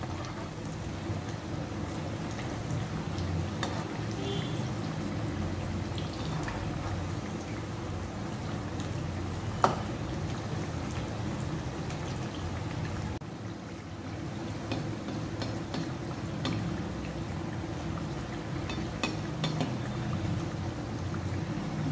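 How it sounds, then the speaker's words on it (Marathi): Cauliflower and potato bhaji deep frying in hot oil over a high gas flame, giving a steady, even sizzling hiss that runs unbroken from start to finish at moderate level. "भजी व्यवस्थित तळून घ्यायची आहे। गॅसचा फ्लेम हाय वरच ठेवायचा आहे।"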